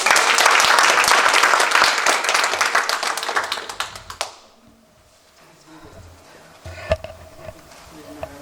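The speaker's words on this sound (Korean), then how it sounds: "우리 두 분에서 박수를 한번." A church congregation at an ordination service claps in a dense burst of applause that thins into scattered claps and dies away after about four seconds, leaving a quiet room with faint taps.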